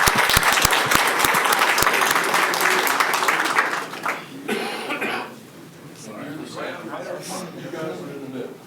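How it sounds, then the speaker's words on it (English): A round of applause at a county commissioners meeting lasts a couple of seconds and fades out, followed by a cough and people starting to talk. "let's give them another big round of applause"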